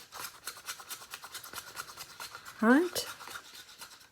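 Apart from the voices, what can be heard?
stirring mica powder into a mixture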